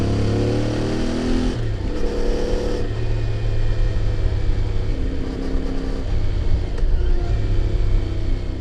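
A CF Moto motorcycle runs along narrow forest roads at moderate speed, its engine a steady close droning rumble with a gear change early on and slight shifts in pitch as it pulls along.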